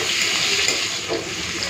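Chopped onion sizzles in hot oil in a pan for a prawn and Malabar spinach stem curry, a steady close frying hiss with small crackles and a brief stir, no voices.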